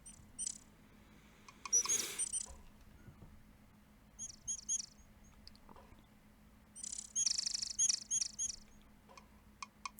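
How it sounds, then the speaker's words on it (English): Bird calls from the VGA adventure game Quest for Glory I: So You Want to Be a Hero?, high chirps and twittering in two clusters with a few scattered peeps between them. They sound moderately near over a quiet, low game hum. "These bird noises are stuck in my head forever as well."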